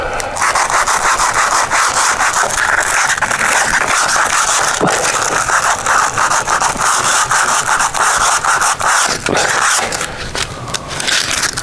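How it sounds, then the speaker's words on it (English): Wood being sanded by hand during a repair of rotten wood, a loud, continuous rasping scrape in steady back-and-forth strokes, close up, with no talking. "sanding."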